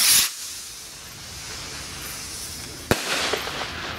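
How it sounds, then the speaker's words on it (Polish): New Generation firework rockets launching, a loud fizzing whoosh at the start, then a second sharp hissing burst near the end, with crackles over low rumbling background. "Fajne te rakietki New Generations."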